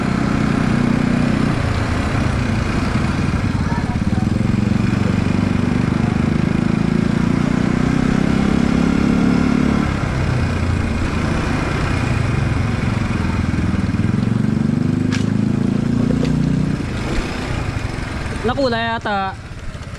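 A Kawilder motorcycle engine runs steadily nearby in a low, continuous drone while people talk over it throughout.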